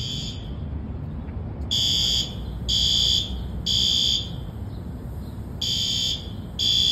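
Workplace fire alarm under test, sounding a loud, shrill electronic tone in repeated half-second bursts with brief gaps, over steady room hum.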